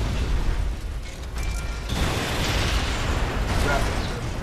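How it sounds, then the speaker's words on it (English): Rocket launcher blasts from Red Faction: Guerrilla, a dense, continuous roar of explosions and rumbling debris that swells partway through and stays loud throughout. "you can go ahead without a bigger weapon and simply use a rocket launcher"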